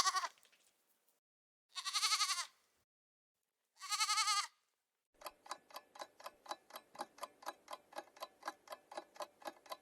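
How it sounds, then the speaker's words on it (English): A goat bleats in wavering, quavering cries, three separate calls with silence between, followed by a fast run of regular clicking pulses, clear and close with no talking. "Did you get it right? It's a goat."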